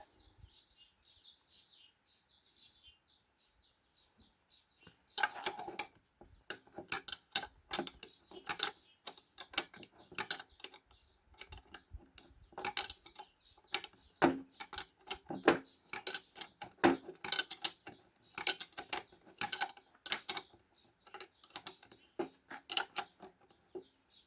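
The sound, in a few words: unscrewing the speedometer drive gear bolt on a Peugeot 404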